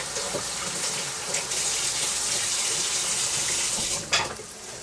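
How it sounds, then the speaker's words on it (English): Kitchen tap runs steadily for several seconds as hands are rinsed beneath it, a close, continuous splashing hiss with a brief louder splash near the end, no talking. "Let me wash my hands up."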